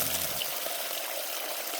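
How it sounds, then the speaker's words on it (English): Water running and splashing off the back of a gold prospecting sluice, a steady bright wash of trickling and gushing flow close by, with no voices. "As long as there's no dirty water coming off the back of here, you're good"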